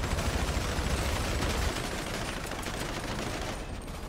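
Sustained burst of gunfire in a GTA 5 roleplay game session, dense rapid shots for the first couple of seconds, then continuing at a slightly lower level throughout, with no talk over it.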